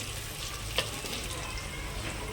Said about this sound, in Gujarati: રીંગણા આપણા જો મસ્તથી ફ્રાય થઈ રહ્યા છે